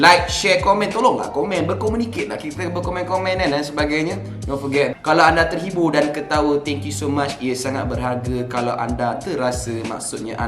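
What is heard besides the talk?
None of the usual background noises is heard.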